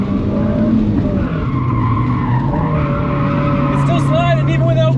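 A Nissan S15 Silvia with an open differential and a jacked-up alignment slides through a drift, engine droning steadily under loud continuous tire noise and a rising squeal near the end, recorded close from inside the car.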